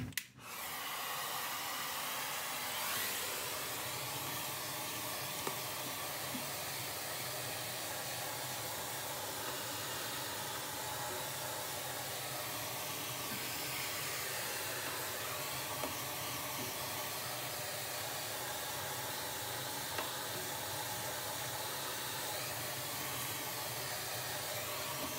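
A steady, continuous vacuum cleaner roar with airy hiss runs unbroken throughout while cleaning a Sirocco 25 stove combustor, close and constant in level.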